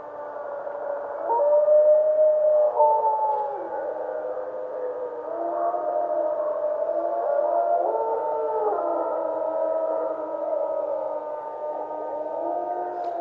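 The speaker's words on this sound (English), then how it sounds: "These are the first wild wolf howls in Yellowstone after 70 years" Wild wolves howling in Yellowstone in a 1995 recording, several long overlapping tonal howls rising and falling together in a sustained chorus, carrying clearly and steadily over a quiet background.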